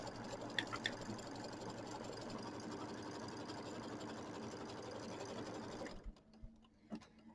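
A home embroidery machine stitches a batting placement line on a quilt block, a steady fast needle chatter and motor hum running for about six seconds before stopping, followed by a few faint clicks.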